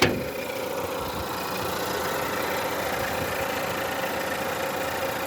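A Renault Clio 3 GT's 1.6-litre naturally aspirated 128 hp petrol engine idles under an open bonnet with a steady, close whir and fine mechanical ticking, holding an even level throughout with no voices.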